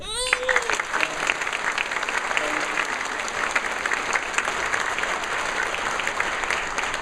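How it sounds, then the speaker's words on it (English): A graduation audience breaks into steady, sustained applause honoring families, dense clapping from a large crowd filling the hall without pause. "please join me in applauding our families, our parents, and those who loved us so dearly"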